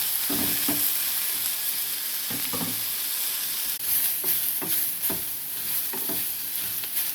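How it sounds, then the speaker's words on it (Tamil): Cumin and fennel seeds sautéing in hot oil give a continuous bright sizzle and hiss, broken by repeated stirring scrapes at an uneven pace. "சீரகம், சோம்பு போட்டு வதக்கி விட்டுக்கணும்."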